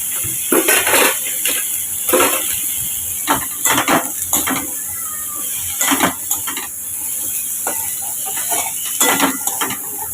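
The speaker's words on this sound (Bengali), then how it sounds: "চলো আলুটা একটু ভাজা ভাজা হোক" Potatoes fry in a pan with a faint sizzle while a spoon scrapes and knocks against the metal in irregular bursts, close up and without talk.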